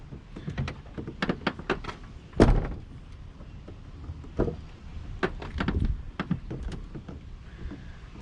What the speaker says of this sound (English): The door latch works properly.